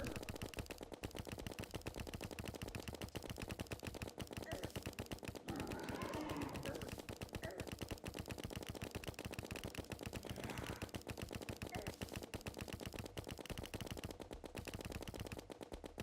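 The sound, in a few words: gunfire from a gun in the video game Terraria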